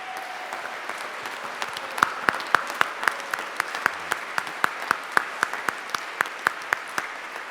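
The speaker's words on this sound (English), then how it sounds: "So I'd like you to give them a warm round of applause." Concert hall audience at a jazz orchestra performance gives warm applause, a soft diffuse bed of clapping with one nearby clapper's crisp, evenly spaced claps standing out prominently.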